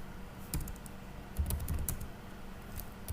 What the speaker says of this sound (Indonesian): Command prompt kita ketikkan